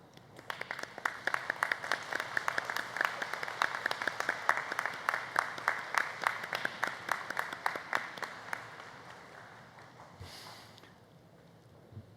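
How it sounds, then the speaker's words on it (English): Graduates at a college commencement ceremony stand and applaud their supporters, a sustained mid-level wash of clapping in a large space that thins out toward the end. "what I'd like for you to do, graduates, is to stand and applaud the people who came with you"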